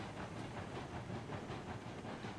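A train running in the railroad game Railroads Online, a steady loud rushing rumble with a rhythmic clickety-clack and hiss throughout, no voices over it.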